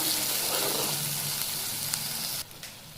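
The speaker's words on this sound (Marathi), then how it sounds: "मसाला छान परतून घ्यायचा आहे 1-2 मिनिटं तेलामध्ये." Masala for a spicy broad-bean pod dish sizzles softly in oil in a pan, a faint continuous hiss that drops away abruptly near the end.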